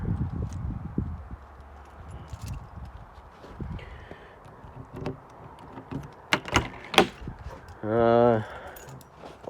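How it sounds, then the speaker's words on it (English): Keys jangle and a lock clicks on the door of a 2021 Sunray 129 camper trailer, then a few sharp latch clacks and the door creaks open with a rattling judder, close by. "unlock the door"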